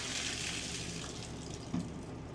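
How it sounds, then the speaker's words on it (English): Water pouring out of a part lifted from a salvaged yacht, a steady splashing gush that runs continuously with one brief louder slosh near the end. "Oh, look at the water come out of it."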